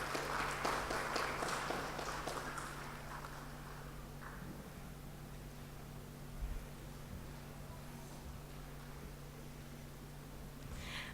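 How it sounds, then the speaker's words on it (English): An event audience applauds after a memento is presented to a professor, faint clapping for the first few seconds that fades into quiet room hum. "Can we have a round of applause,"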